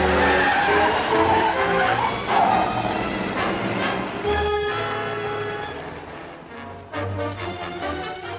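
A car from a 1946 film pulls away at night with tires skidding and squealing, loud and close, heard alone without talk, fading somewhat as the vehicle drives off.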